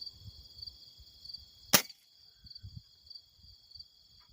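A break barrel air rifle fires once mid-clip with a sharp, crisp crack, while a steady high cricket chirr and soft low rustling carry on around it.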